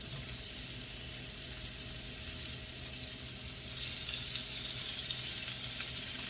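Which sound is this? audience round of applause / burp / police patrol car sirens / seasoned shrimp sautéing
seasoned shrimp sautéing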